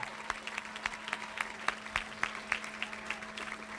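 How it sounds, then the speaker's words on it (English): Applause from a crowd at a political campaign victory event, steady rapid clapping with sharp individual claps standing out, continuing throughout. "give another big round of applause"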